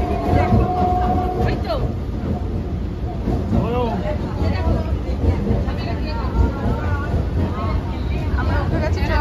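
Passengers ride on board a moving train near Dum Dum Cantonment, snacking as they travel. A steady, loud rumble of the carriage runs throughout, with constant crowd babble and voices mixed in.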